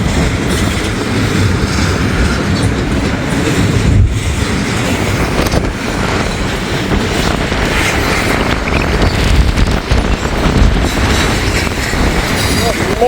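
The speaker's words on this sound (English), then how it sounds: "Got a pretty long train." Long freight train rolling past close by at a Hamilton, Ohio crossing, loud continuous rumble with rhythmic clickety-clack of wheels and gusty wind buffeting the microphone throughout.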